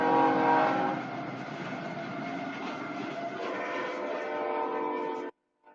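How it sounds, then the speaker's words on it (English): Train passing close by with a sustained horn blast, loud and continuous for about five seconds before cutting off abruptly, no talk over it. "Train!"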